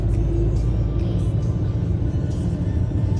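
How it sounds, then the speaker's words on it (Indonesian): Road works vehicles roll past in slow, congested traffic, a loud close engine rumble that holds steady throughout. "Itu mobil-mobil buat pengerjaan jalan atau apa gitu."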